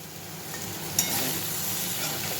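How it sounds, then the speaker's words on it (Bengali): A spice mix frying in oil in a pan alongside pumpkin and potato: a steady, close hiss of sizzling with a brief clink near the start and no talking. "মশলাটা একটু ভাজা হবে"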